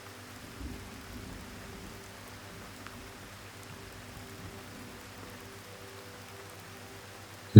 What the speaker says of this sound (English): Allow the sound of this rain to guide you gently